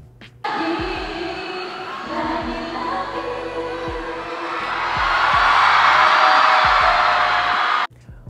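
A large crowd cheers at a Robinsons Antipolo Mall Show, a dense roar that swells louder toward the end over amplified music with a steady thumping beat.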